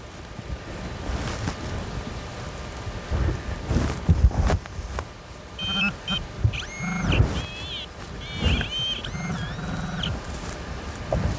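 Outdoor wind buffeting a microphone while someone searches the ground for buried finds, a low gusty rumble with bursts of handling and knocks, and faint whistling tones in the middle.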